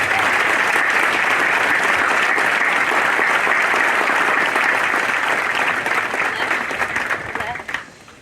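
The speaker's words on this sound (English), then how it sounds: "please join me in giving our awardees another big round of applause" Sustained applause from a large audience honoring awardees at a military graduation ceremony, dense steady clapping that holds for several seconds and then thins out and fades at the end.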